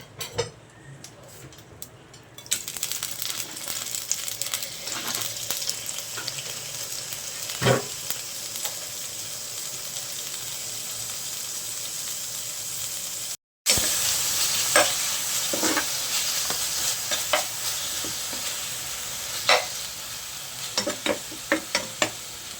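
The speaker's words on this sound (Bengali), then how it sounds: "মুরগির মাংসটা ভেজে নিব।" Chicken meat fries in a little oil in a frying pan for basmati fried rice, a steady close sizzle with repeated spatula scrapes and taps against the pan, briefly cut off once midway, no talk.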